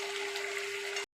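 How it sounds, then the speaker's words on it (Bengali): Hot water is poured into a pan of chicken and potato curry to make the gravy: a brief, steady rushing gush that cuts off abruptly. "এবার আমরা গ্রেভির জন্য গরম জলটা ঢেলে দেবো।"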